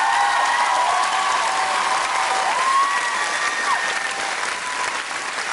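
A studio audience at a televised singing competition breaks into loud, sustained applause with some cheering, with a bright whistle-like tone gliding through the clapping.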